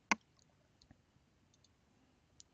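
A single sharp mouse click on the OK button in CAD software comes early, followed by a few faint, scattered ticks in a quiet room.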